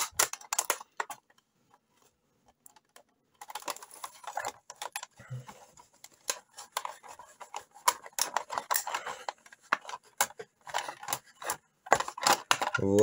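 Knife slicing into a Masters of the Universe action figure box with a display base inside, a run of close, sharp cutting and scraping clicks with cardboard crackle, pausing briefly before resuming in irregular bursts.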